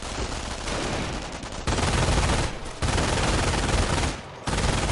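A strategy video game battle carries rapid rifle and machine gun fire in dense, continuous bursts with brief dips between volleys, loud and sustained without any talk.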